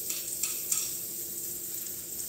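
Onions and fresh garlic sizzle in olive oil in a pan, a steady close frying hiss with a few sharper crackles and stirring taps, no talk.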